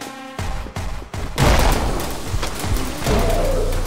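Explosions and gunfire from the Anger Foot video game during a boss fight against the Mud Baron: a sharp blast followed by a sustained, loud crackling roar of booms and debris that fills the rest of the moment.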